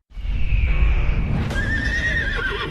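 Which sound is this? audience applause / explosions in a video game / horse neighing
horse neighing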